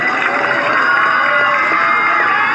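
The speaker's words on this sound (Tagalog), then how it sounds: "pwede po ba akong makahingi ng masigabong palakpakan at hiyawan?" A large crowd at an evening barangay Halloween show cheers and applauds, a dense, loud, steady wash of shouts and clapping that fills the whole moment without a break.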